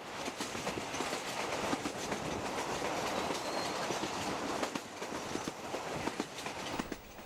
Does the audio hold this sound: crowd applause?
no